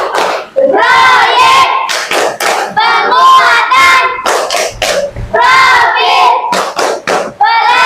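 A class of Indonesian schoolchildren performing the Tepuk P5 ice-breaker clapping chant, loud rhythmic hand claps mixed with shouted group chanting in bursts across the whole stretch.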